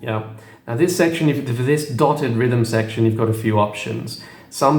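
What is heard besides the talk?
No distinct noise like a dog, phone or traffic.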